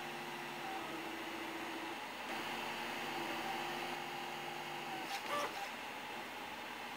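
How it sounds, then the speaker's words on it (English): A DIY direct granules extruder 3D printer prints PLA at slow speed, its stepper motors whining in steady tones under a hiss, with a brief clattering burst near the end. "Here I'm printing PLA with a layer thickness of"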